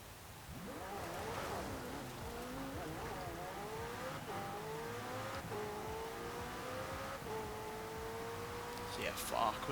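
The Lego Goliath car from Forza Horizon 4 drives with a steady engine whine that climbs in pitch through repeated gear changes, humming smoothly and close at moderate volume.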